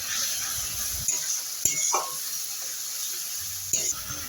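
Spice paste of masala with Kashmiri chilli frying in oil, a constant soft sizzle with occasional scrapes and clicks of stirring against the pan, close and fairly quiet.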